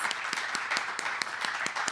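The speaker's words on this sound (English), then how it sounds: "So we thought we would give him some applause" Applause for a man's birthday at an ocean conservation talk, a thin scattering of distinct claps from a small audience, fairly soft and irregular over two seconds.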